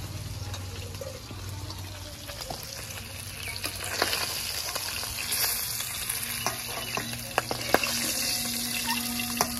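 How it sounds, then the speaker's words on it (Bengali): Fish fries in a pan of hot oil for a Bengali pumpkin and fish dish. Close crackling spatter with sharp pops, steady at first and then busier, over a low background hum, with no talk. "কি তেল ছুটছে!"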